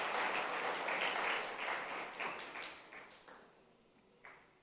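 A church congregation applauds in a dense burst of clapping that tapers off gradually, with scattered final claps trailing into near quiet.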